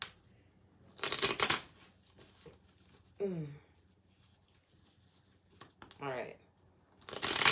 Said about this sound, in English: I'll go ahead and shuffle the cards here.